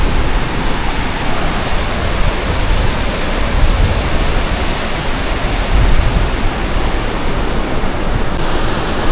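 Marleshwar waterfall in monsoon flood, pouring with heavy force: a steady, dense roar of falling water fills the whole stretch at close range, unbroken and loud, with no voices.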